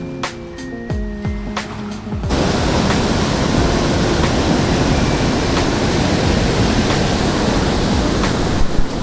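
Flood water roars through the four opened flood gates at Harike Headworks in Punjab, a steady, loud broadband rush that begins abruptly and continues without a break.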